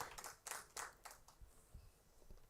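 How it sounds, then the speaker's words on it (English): Audience applause at a panel session at the India Pavilion, Expo 2020 Dubai, quiet and somewhat distant, a few louder bursts of clapping that thin into scattered claps. "A round of applause for these wonderful ladies"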